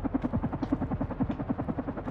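Rhythmic low chopping of helicopter rotor blades in the video game Carrion, steady and moderately loud, pulsing evenly throughout with a muffled game-like quality.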